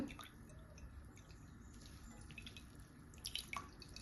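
Coconut milk for ragi ice cream drips steadily into a bowl, a faint patter of small drops against low background hiss.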